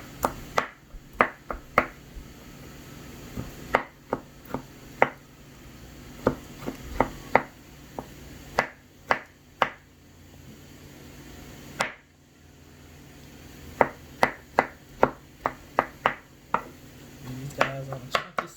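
A knife chops through tomatoes on a cutting board in quick bursts of sharp, close taps, pausing briefly between runs of cuts, with no talking over them.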